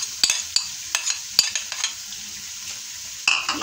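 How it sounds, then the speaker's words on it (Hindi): Ginger and garlic paste sizzles in hot oil, with a close hiss and a scattering of sharp clinks and scrapes from a spoon or pan over about three seconds. "तो पहले ये ऑयल गर्म हो चुका है, एक चम्मच अदरक है, एक चम्मच लहसुन का पेस्ट ये हम डालेंगे।"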